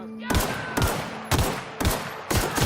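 Five loud gunshot blasts from a video game ring out at a steady pace roughly half a second apart, each a sharp crack with a lingering boom, heard close and without speech.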